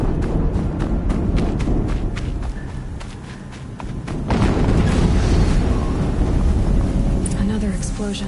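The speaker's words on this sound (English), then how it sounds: "Another explosion." An explosion in Horizon Zero Dawn erupts as a loud, broad blast partway through, after a stretch of rapid footsteps and rumbling, with the roar sustained afterward.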